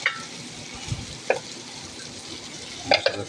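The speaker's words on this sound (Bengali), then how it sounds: "তাও আবার চিংড়ি ভাজা হচ্ছে" Large prawns fry in a spiced pan, giving a steady close sizzle broken by a few sharp scraping stirs and clinks near the start, middle and end.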